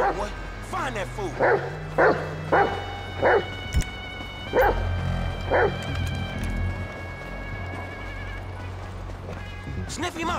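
A dog in Grand Theft Auto 5 barks in sharp, separate bursts, six or seven in quick succession and then one more near the end, loud and close amid game noise.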